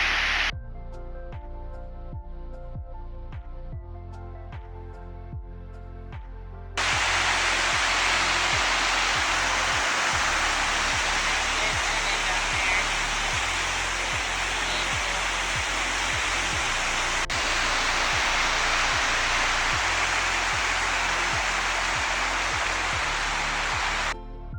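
Steady, loud broadband roar of Skutafoss waterfall in Iceland heard from the top of the falls, a dense continuous rush that swells in after a quieter opening and holds unbroken to the end.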